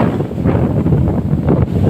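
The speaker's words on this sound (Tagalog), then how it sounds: "ayan ang sobrang lakas ng hangin sa kaalod" Strong wind at the sea buffets the microphone in a constant low roar during bad weather, with a rushing wash of rough sea underneath and no voices.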